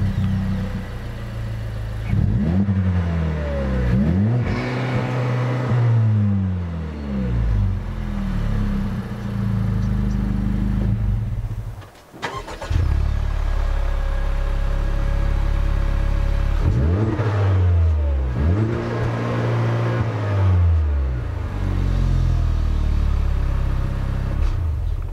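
Honda Civic Type R FK2 and FK8 engines revved repeatedly at standstill, each blip rising and falling in pitch, close and loud, with a brief pause between two runs of revving.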